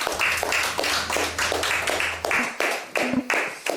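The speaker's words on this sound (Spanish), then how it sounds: "Dale un aplauso a Jesús," A church congregation claps in steady rhythmic unison, close and lively, each beat sharp and even across the clip, with faint voices underneath.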